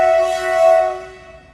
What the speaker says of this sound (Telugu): ట్రైన్.